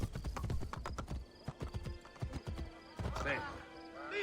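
Horses in a Ubisoft video game, with a rapid run of hoof clip-clops that gives way to a loud, wavering neigh, while a person talks faintly in the background.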